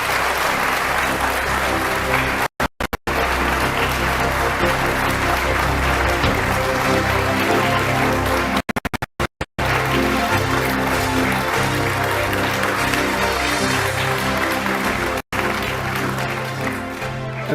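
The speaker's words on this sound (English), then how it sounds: "Let's give him a round of applause as well." A large crowd applauds for a presidential candidate during a Kenyan political event, long sustained clapping that fills the whole stretch at steady loudness, broken only by a few brief dropouts.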